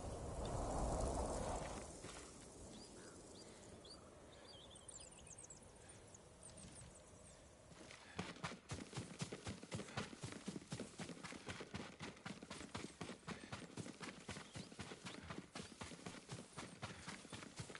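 Hoofbeats of a horse in Ghost of Tsushima, a steady run of clip-clop strikes from the eighth second onward, fairly close and rhythmic over ambient game sound, after a quieter opening stretch of wind and surroundings.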